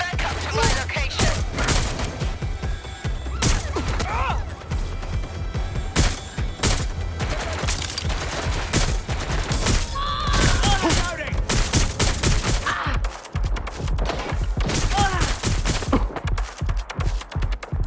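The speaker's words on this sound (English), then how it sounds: "They're shooting at us!" Gunfire in Watch Dogs: Legion breaks out in loud, repeated volleys and sharp single shots, with overlapping bursts and distant echoes, while game voices call out in between.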